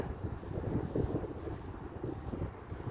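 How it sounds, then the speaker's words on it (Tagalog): Strong wind buffets the microphone in a steady, rushing low roar that swells and eases slightly, with no other clear sounds and no talk. "Lakas ang hangin,"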